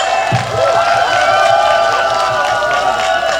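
Festival audience applauding and cheering at an outdoor trot concert, a steady wash of clapping and crowd noise that holds throughout with no talk over it.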